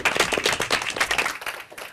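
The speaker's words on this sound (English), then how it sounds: "Big round of applause for yourself." Clapping follows an elementary school academic match, a brisk burst of applause from a small group with distinct near claps, rippling and then thinning out toward the end.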